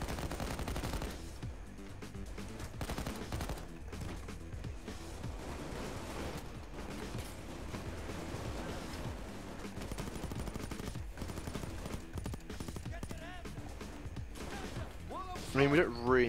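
Bursts of gunfire in the heist shooter Payday 2 during a bank job, rapid shots and impacts recurring throughout, mixed with game noise and someone talking over them.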